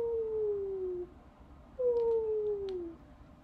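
Two long, clear descending hoots of an owl answering a call in the woods at night, each about a second long with a pause between, carrying an echoing tone through the trees.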